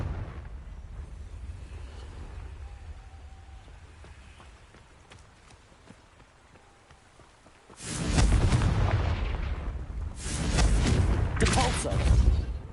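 A Confringo blasting spell in Hogwarts Legacy, heavy booming explosive bursts that roar in loudly after a quieter rumbling stretch, followed by a second blast with a long crackling tail.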